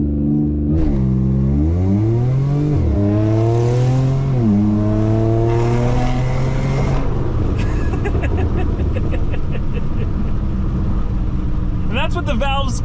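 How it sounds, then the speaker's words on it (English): Supercharged 500 hp AWD Audi accelerating hard in sport mode with valves closed, a loud rising engine roar climbing through gear shifts with a high supercharger whine, close and continuous, ending in rattling pops. "I wanted to do valves closed so we could hear that supercharger whine, which is just awesome."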